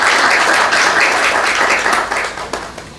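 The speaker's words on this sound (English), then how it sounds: "So we can applaud for that." Audience applause at the ProFuturo opening ceremony in Barbados, a loud, dense burst of clapping from a crowd that holds steady and then begins to thin and taper toward the end.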